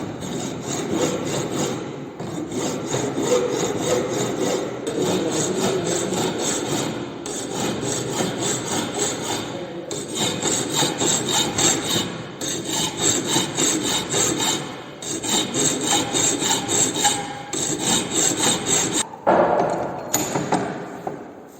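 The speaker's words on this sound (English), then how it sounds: "So now we are starting with the filing of the sides and corners of this T." Hand file rasping steadily across the sides and corners of a rough metal T-piece in a fitting shop, with continuous repeated strokes and brief pauses, loud and close throughout.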